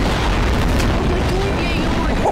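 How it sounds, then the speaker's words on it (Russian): Bombs exploding in Garry's Mod, heard as a dense, loud, continuous rumbling roar of booms that fills the whole clip, with a voice blended into the din. "Я вижу, сколько взрывается бомб."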